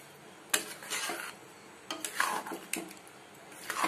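Makhana paneer is stirred in a pan, with a spoon scraping and clinking against the metal in a few close, irregular strokes over a quiet background.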